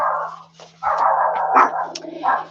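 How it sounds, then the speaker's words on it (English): Indoor dogs barking in a home, loud close barks and growly yips in quick succession with a steady electrical hum underneath. "Don't know why the dogs are going off."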